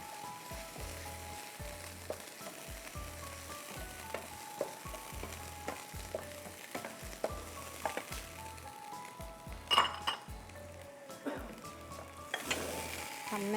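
Mutton pieces frying in a pot with onion and ginger-garlic paste, a steady close sizzle broken by repeated scraping stirs and clanks of a spoon against the pot, with no talking.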